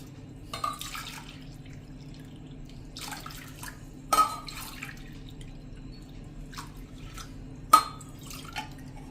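Water splashes into a bowl of soaking lentils and rice in three short pours spaced apart, with faint dripping and a low hum between them.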